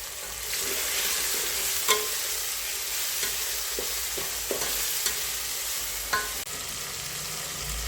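Onion frying in a pan with a large spoon of salt and turmeric for Kolhapuri kat vada, an even sizzle under repeated scrapes and clinks of a spoon stirring against the pan.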